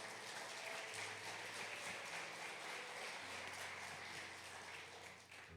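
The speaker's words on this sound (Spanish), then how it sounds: "Den un aplauso al Señor entonces." A church congregation applauds in one steady, even stretch of dense clapping that stays faint and distant throughout.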